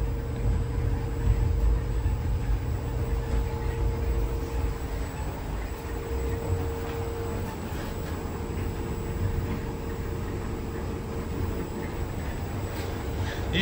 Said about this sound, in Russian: И здесь вот наш монорельс огибает все строения